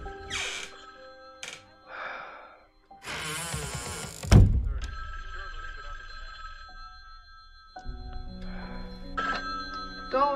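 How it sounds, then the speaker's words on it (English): A telephone rings in a Halloween video game, with bursts of ringing among thuds and a loud clunk in the middle, under a player's talking. "Answer the phone."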